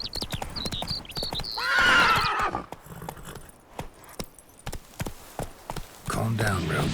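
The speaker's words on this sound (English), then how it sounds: "Calm down, Roach." In a video game, a horse whinnies loudly and its hooves clip-clop in quick rhythm nearby, with a second neigh near the end and voices talking over parts of it.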